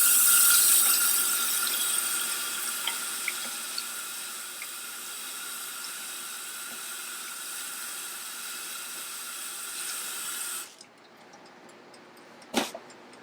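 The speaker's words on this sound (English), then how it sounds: "I'm going to wash my hands right now." A kitchen tap runs steadily while hands are washed under it, a continuous close hiss of water that stops abruptly near the end, followed by a faint clunk.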